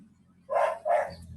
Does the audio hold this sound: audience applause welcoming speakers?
no